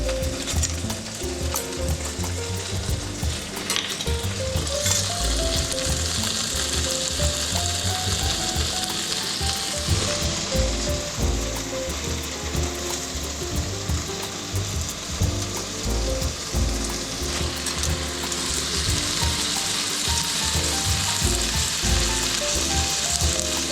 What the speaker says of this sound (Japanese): これを炒めまして